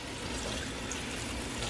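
Tap water runs steadily into a sink while zucchini are washed, a continuous close rushing splash with no talk.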